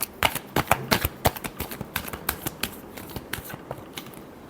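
Tarot cards shuffled by hand, a close run of crisp rapid riffling flicks in quick rhythmic bursts that taper off toward the end, with no talk.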